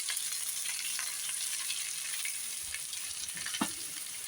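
Chopped urad dal vada pieces frying on a hot tawa, a steady bright sizzle throughout with occasional soft scrapes of stirring, close and fairly quiet with no talk.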